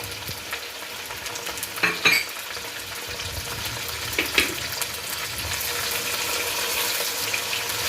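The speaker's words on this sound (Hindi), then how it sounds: "कीमे को भी अच्छी तरह इसमें भून लेंगे।" Minced meat for green keema sizzles steadily in a hot pan, with occasional scraping and stirring clatters over the continuous frying hiss.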